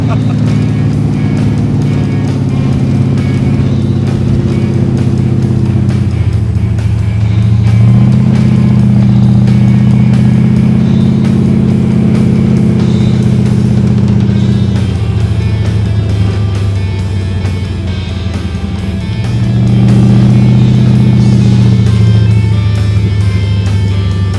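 Steady engine drone and road rumble inside a moving Ford Model A, rising and falling slightly as it accelerates, with people talking over it.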